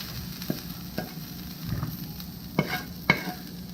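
Sausage, onion and celery sizzle softly in a pan while a utensil scrapes and knocks against it a few times, with sharp clicks standing out over the quiet frying.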